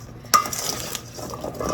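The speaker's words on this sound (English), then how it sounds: "And I'll stir that around." A utensil stirs sweet potato and butternut squash pieces in a dish, with an opening clink followed by soft scraping and shuffling, close up and quiet, with no talking.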